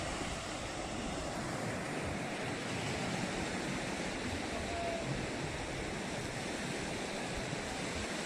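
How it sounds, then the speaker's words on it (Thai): Strong surf and wind at Patong Beach in Phuket: a constant broadband roar of breaking waves mixed with gusting wind noise on the microphone, steady and fairly loud throughout with no clear speech. "คลื่นลมแรงครับ"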